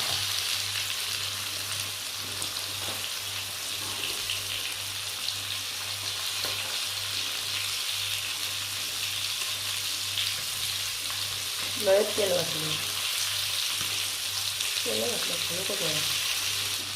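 Bangda mackerel frying in oil, a steady hiss of sizzling throughout, with brief bursts of talking later on.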